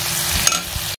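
Spices stirred and fried with turmeric and sugar in a pan on the stove, a steady close sizzle with scraping stirs throughout, then a sudden cut to silence.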